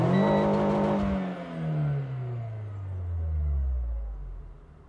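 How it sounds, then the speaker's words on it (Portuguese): A Renault Sandero RS in RS mode gives a loud rev near the microphone, then the engine note sinks slowly and rumbles down toward idle over several seconds, with no speech. "Todas as vezes que você clica no botão RS, o motor sobe de giro"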